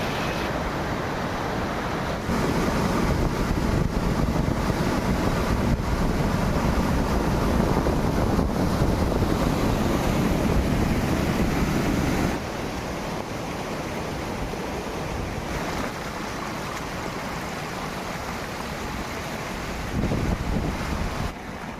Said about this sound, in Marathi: पाऊस जोरात चालू आहे मुसळधार पाऊस चालू आहे